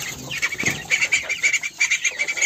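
Young chickens and ducks kept in a cage on a farm, heard as scattered soft peeps and chirps with some fluttering, moderately close, with no talking.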